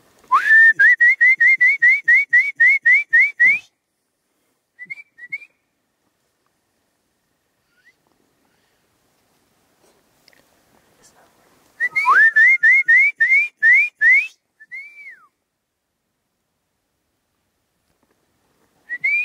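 Someone whistles a quick run of rising, chirpy notes. After a long quiet pause the whistling returns in a second burst, close and clear.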